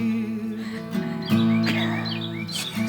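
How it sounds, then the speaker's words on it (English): Bird-like whistles and chirps ring out over a sustained musical backing in a Christmas song, bright short calls repeating across the passage. "birds are whistling, birds are whistling"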